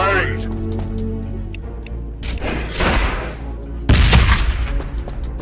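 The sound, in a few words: grenade explosion and gunfire in Warhammer 40K video game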